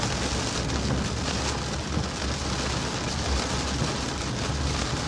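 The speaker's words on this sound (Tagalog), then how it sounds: "Malakas ang ulan dito" Heavy rain pours down steadily on a flooded road, a dense, even roar of hiss and patter with no breaks, close and loud throughout, with no voices.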